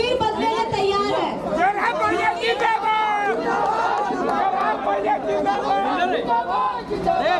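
A crowd gathered at night for a political rally in a Jharkhand village chatters in a dense, close babble of many voices, with some louder voices rising above the rest throughout.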